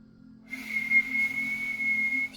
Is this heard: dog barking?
no